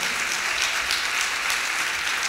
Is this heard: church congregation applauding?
yes